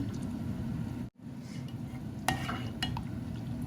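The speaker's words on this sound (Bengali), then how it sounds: "এখন আস্তে আস্তে নাড়াচাড়া করে আর একটু ঠিক করিলাই" A spoon stirs cold milk mixed with cornflour in a pan, heard as a steady close rustle that cuts out briefly, followed by a few light clinks against the metal.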